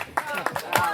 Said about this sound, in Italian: l'applauso non basta, l'avete fatto troppo contenuto